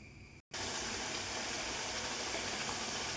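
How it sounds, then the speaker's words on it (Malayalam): A capsicum curry, loosened with a little water, simmers in a pan with a steady close hiss and bubbling after a brief dropout at the start. "ഒന്ന് തിളച്ച് കുറുകി വരട്ടെ."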